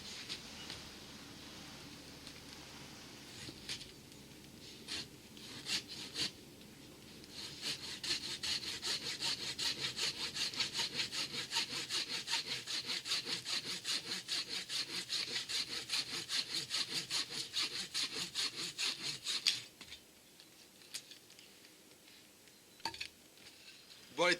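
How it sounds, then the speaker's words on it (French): A Schrade SCAXE9 hatchet saw cuts through wood in a long run of rapid, rasping back-and-forth strokes, close and fairly loud, starting after some scattered handling noises and ending with a few knocks. "testons la scie lorsqu'elle est dans la position de 90 degrés"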